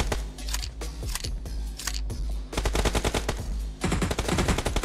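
Rapid automatic gunfire in the PUBG Mobile battle royale game, a dense run of loud sharp shots in bursts, growing busier and heavier toward the end with no talk over it.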